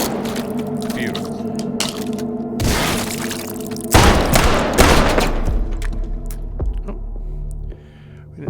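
Gunfire and explosions ring out in the H3VR virtual-reality shooter, with two big booming blasts and scattered shots and cracks over a steady background hum, ending with a brief lull.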